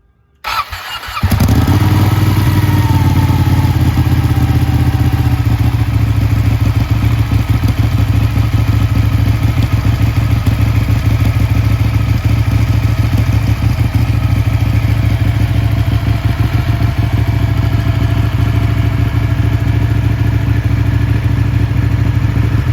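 A Ducati 1199 Panigale motorcycle fires up with a brief catch, then settles into a loud, steady, close-up idle with a deep throbbing rumble and faint mechanical clatter, running alone for about twenty seconds.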